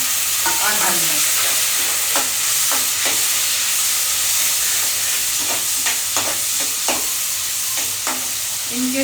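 Tomato and green chili go into browning onions and cumin frying in a pan, setting off a loud, steady sizzle while a spoon stirs and scrapes in irregular strokes.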